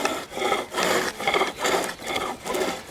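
Skew chisel taking a rolling cut on a piece of wood spinning on a lathe, a steady rasping shave that rises and falls in about six even strokes, close and fairly loud, with no talking.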